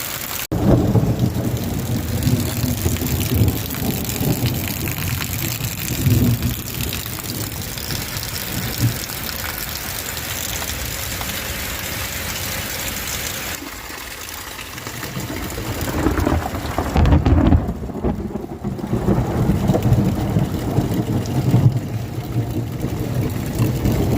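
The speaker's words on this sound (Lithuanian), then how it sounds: "Griaustiniai duoda." Thunder rolls through a heavy rainstorm, deep rumbles rising and swelling over constant close rainfall, with a stronger burst late on before the downpour continues.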